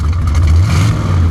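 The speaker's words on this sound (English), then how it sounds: "the exhaust sounds great with the new camshaft in it" A classic Chrysler car with a new camshaft, its exhaust rumbling loud and steady close by, with a deep low drone and a slight swell of revs.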